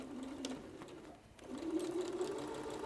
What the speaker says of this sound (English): so you hear the sewing machine working a little bit harder, but it's going over that loop